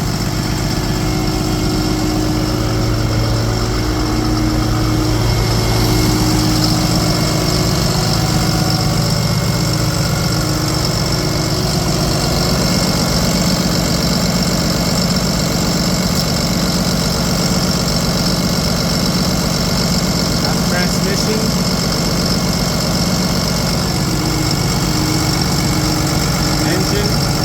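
Diesel engine of a 2010 Freightliner M2 asphalt patch truck with a Cummins engine idles steadily and loudly up close, a constant low rumble with mechanical clatter throughout.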